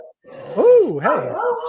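A dog gives a single drawn-out, howling bark that rises and falls in pitch, loud and close, with no talking over it.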